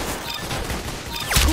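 Gunfire in a combat video game: a dense burst of shots and impacts runs through the whole short stretch, with a louder crash near the end, loud and close.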